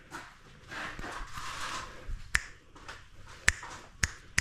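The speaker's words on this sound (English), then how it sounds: "I'm gonna snap my fingers like this" Several sharp finger snaps, loud and close, ring out one at a time with gaps between them in a garage where a Nissan RB25 engine is being torn down, after a stretch of soft rustling noise.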